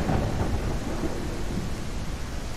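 A video-game thunderstorm: loud, continuous rumbling thunder mixed with steady heavy rain, filling the whole stretch with no voices.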